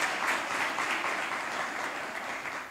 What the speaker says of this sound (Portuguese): Aplaude esse hino de Nossa Senhora.